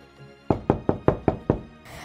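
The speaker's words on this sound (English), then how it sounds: "When I heard a knock on the door" Six sharp knocks on a door rap out at an even, quick pace, loud and close, followed by a brief soft rustle.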